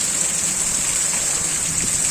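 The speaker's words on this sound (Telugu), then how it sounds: "చూడండి మా ఇంటి దగ్గర చూడండి ఇది ఎలా వర్షం ఎంతో భయంకరమైన వర్షం వచ్చిందండి." Heavy monsoon rain pours steadily near a house, a dense, constant hiss of downpour with no breaks, close and loud throughout.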